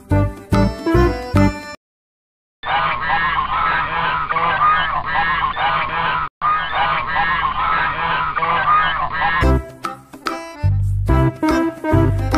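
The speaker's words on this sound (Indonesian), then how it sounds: "Angsa." A goose honks loudly and repeatedly in a rapid, continuous run of nasal calls lasting several seconds, with a short brief break partway. Separate short musical sounds come before and after it.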